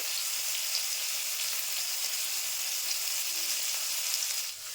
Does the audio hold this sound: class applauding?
no